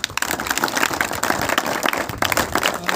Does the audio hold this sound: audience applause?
yes